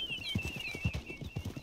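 Hooves of a horse in the game Red Dead Redemption 2 clip-clop in a quick, even four-beat rhythm, close and steady under a thin high tone, with no talking.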